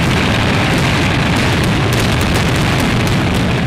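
Pooram festival fireworks in Thrissur, set off in daylight, form a loud, dense, continuous barrage of booming explosions and crackling bursts with no pauses, filling the whole stretch.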